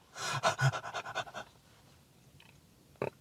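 A man pants rapidly in imitation of a dog, about a dozen quick breathy huffs close to the microphone, then quiet with a faint click near the end.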